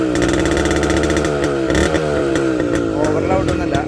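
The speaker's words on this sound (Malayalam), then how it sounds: "ഇതാണ് നമ്മുടെ വണ്ടിയുടെ എക്സോസ് നോട്ട്" Suzuki Max 100 motorcycle idling and blipping through a modified stock silencer, a loud close rapid two-stroke burble with irregular throttle rises and sharp popping pulses.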